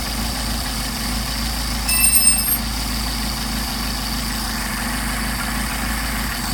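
A Mercedes 190SL with Solex carburetors idles steadily, one carburetor running on its own, giving a low, even rumble with a brief small rise partway through.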